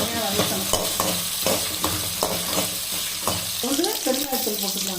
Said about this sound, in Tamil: இந்த கருவேப்பிலை கொத்தமல்லி இதையும் போட்டுக்கலாம்